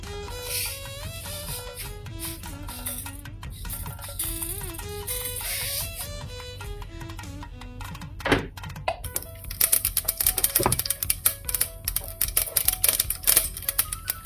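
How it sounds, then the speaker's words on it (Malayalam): Mustard seeds pop in hot coconut oil for an Onam sadya ginger curry. Background music plays first, then sharp, irregular crackles and pops burst out rapidly and loudly. "എണ്ണ നന്നായി ചൂടായിട്ട് കടുക് പൊട്ടിക്കുക"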